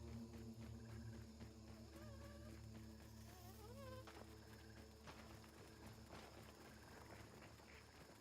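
Bee buzzing in the survival video game Grounded, a droning insect hum with wavering pitch that persists over a dense layer of game ambience and music throughout.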